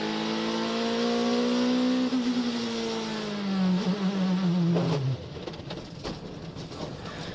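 Race car at the 12 Hours of Sebring running on slick tires on a wet track, its engine a steady loud drone that falls in pitch as it slows, ending abruptly, with background track noise.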